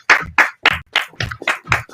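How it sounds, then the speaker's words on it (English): An audience breaks into applause, seven distinct, evenly spaced claps heard close and clear with no talk over them. "Please clap it up, for Miss Brown."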